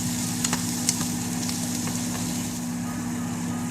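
Bitter melon hits a hot pan and sizzles steadily, a continuous frying hiss with a couple of sharp pops early on, close and fairly loud over a low hum.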